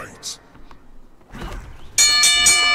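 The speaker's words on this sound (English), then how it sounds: "Let's ring the bell." A bell rings out to open a match in a fighting video game, a bright sustained metallic tone arriving after some thuds and clatter, loud and close.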